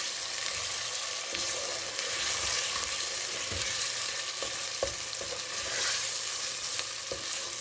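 Meat for aloo gosht frying in a pot, giving a steady dense sizzle with scattered stirring knocks and scrapes throughout.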